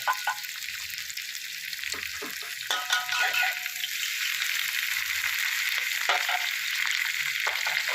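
Shelled shrimp sizzle with Thai garlic in a hot pan for a garlic-chive stir-fry, a steady close crackle and hiss with a few stirring scrapes and clinks throughout.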